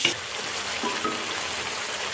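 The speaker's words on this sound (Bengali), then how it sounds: "এবার একটু ভাজা হবে" Whole spices such as bay leaf and black peppercorns fry in hot oil with a soft, even sizzle that stays steady and close for a couple of seconds.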